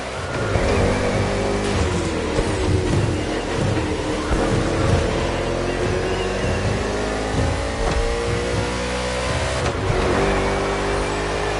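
Video game NASCAR race cars roaring around a tight Honolulu street circuit in Hawaii, a dense, continuous engine drone with rising and falling revs from several cars close by, loud and steady throughout.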